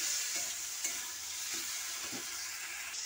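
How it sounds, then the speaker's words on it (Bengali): Fried egg, potato and okra stir-fried together in a pan, with a soft steady sizzle and a few scraping stirs of a spatula, alone with no talk. "এই সবজিগুলোকে একসাথে এইভাবে কষাতে থাকতে হবে।"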